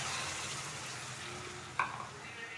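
Potatoes frying with masala paste in a pan for an aloo paneer curry give a low, steady sizzle with soft stirring scrapes and one brief clink near the end; no one speaks.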